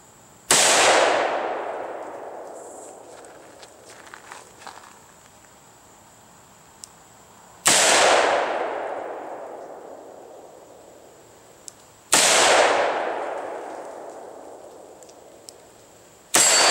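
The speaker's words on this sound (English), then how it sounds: "First time shooting 357 out of a security 6." A Ruger Security Six revolver fires .357 Magnum rounds at a steel plate outdoors: three sharp, loud gunshots spaced several seconds apart, each followed by a long rolling echo, with faint insect buzz in the background.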